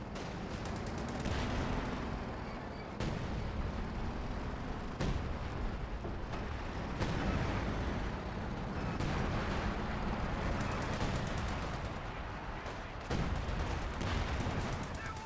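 Heavy artillery fire and shell explosions in the Company of Heroes 2 strategy game, a dense, continuous barrage of booming impacts and crackling gunfire at steady loudness, with sharp hits recurring every second or two.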